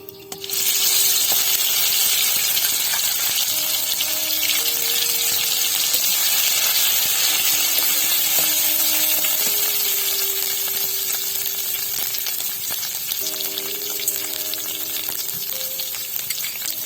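Black cumin and a leaf paste frying in hot oil, a steady, close, broadband sizzle with a faint scraping that holds at an even level throughout, with no talk.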